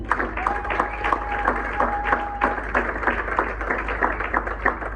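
A church congregation applauds the Lord during a wedding service with steady rhythmic clapping that carries on throughout, a sustained tone and voices heard beneath it.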